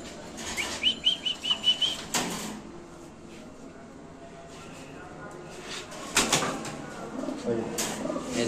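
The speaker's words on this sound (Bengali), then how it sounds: "এই যে কবুতরের ডাক।" Lahori pigeons at a pigeon sale and exhibition, with a quick burst of close wing flapping early on and later rustling bursts of wings, while people talk in the background.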